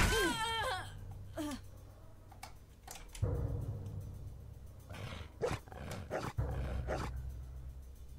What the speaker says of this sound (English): Dog probably fighting an undead.